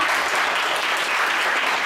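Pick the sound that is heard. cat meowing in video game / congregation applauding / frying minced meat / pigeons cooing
congregation applauding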